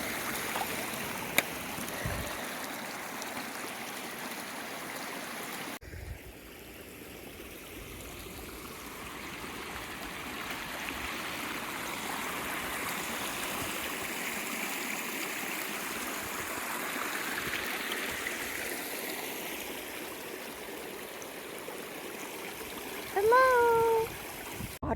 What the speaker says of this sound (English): Water is even running down the trail, just like on the AT.